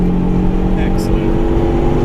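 A race car at Mallory Park holds a loud, steady engine note while overtaking another car mid-track, with an instructor talking continuously over it.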